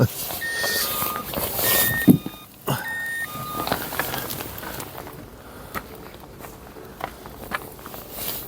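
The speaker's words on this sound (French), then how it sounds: "la voiture elle sonne" Three short, evenly spaced warning beeps from a car, followed by muffled movement, a door thump and quiet interior rustling.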